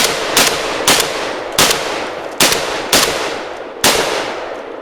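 A Mossberg 930 semi-automatic shotgun firing at a range, loud sharp blasts spaced roughly a second apart, six clearly caught with a longer gap before the last, each followed by a brief decay.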